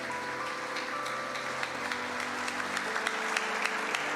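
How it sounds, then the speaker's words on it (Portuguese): Congregation applauding at an evening church service, a steady dense clapping from many hands throughout, with faint sustained music tones beneath. "Quem pode dar um aplauso para Jesus essa noite?"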